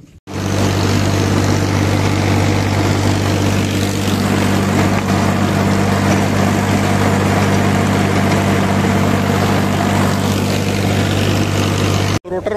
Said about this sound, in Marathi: आपण पटकन ट्रॅक्टरला डिझेल टाकू, रोटर जोडून रोटर मारायला सुरुवात करून देऊ आपण